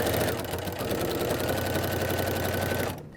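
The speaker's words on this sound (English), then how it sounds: "I'm going to go ahead and back stitch a little bit here just because it's the last one." Sewing machine backstitching a seam on a quilted carry-on tote made from a quilt panel: a steady, loud mechanical whir and rapid needle chatter that runs continuously, then stops abruptly near the end.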